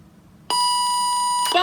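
A Bop It electronic handheld game sounds a sustained steady electronic beep tone for about a second, starting abruptly, then breaks into a brief burst of brighter noise at the end.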